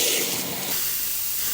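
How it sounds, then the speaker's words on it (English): Steady broadband hiss from a running tap and a can of hairspray layered together, continuous and fairly loud with no breaks, brighter in the highs, with no voices. "I literally just used a running tap and a can of hairspray."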